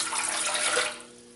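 Warm water pours steadily into a bread machine pan for a simple loaf recipe, a broad splashing rush that holds for about a second then trails off into quiet, with no talk.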